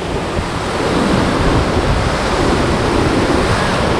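Loud, constant roar of Bridal Veil Falls near Telluride, Colorado, crashing nearby, a dense unbroken wash of noise with no voices.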